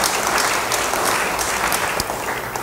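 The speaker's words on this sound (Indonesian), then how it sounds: "Beri tepuk tangan bagi Dia." Congregation clapping during a church sermon, a loud, dense, sustained burst of many hands filling the space evenly, with scattered sharper claps standing out.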